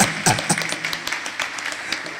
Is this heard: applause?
yes